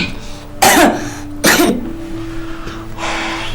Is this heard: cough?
yes